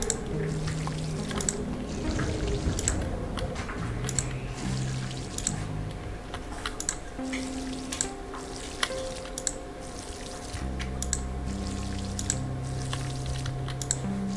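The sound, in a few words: watering plants with a watering can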